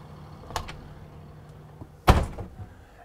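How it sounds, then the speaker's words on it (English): A door on a 2023 Newmar Supreme Aire 4051 motorhome swings shut with one firm, close thud, with a lighter click shortly before it, in an otherwise quiet interior. "I'm actually gonna shut the door."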